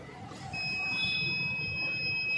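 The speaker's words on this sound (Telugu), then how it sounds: "మీకైతే బీప్ సౌండ్ వినిపిస్తుందనే తెలియదు కానీ ఇక్కడైతే పక్కాగా క్లారిటీగా వస్తుంది" A piezo buzzer on an Arduino smart blind stick sounds a steady, loud electronic beep that begins about half a second in and holds continuously to the end, with no talking.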